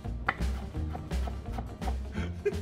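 Fresh hot peppers chopped with a knife on a cutting board for a fermented hot sauce, a run of close, fairly steady blade knocks with small pauses between strokes.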